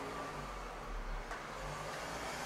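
Car engine running steadily at close range as the vehicle makes a U-turn, a continuous low rumble with slight revving and no talk over it.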